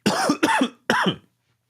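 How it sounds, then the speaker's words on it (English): Three sharp coughs close to the listener, two in quick succession and a third after a short pause, followed by silence. "Pardon me, I'm coughing."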